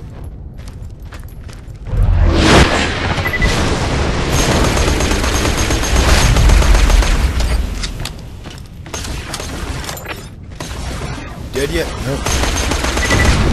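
Rapid automatic gunfire crackles from weapons in Borderlands 2 as a Siren character fights, with dense, loud bursts running almost continuously and brief dips between volleys, while short spoken remarks are heard.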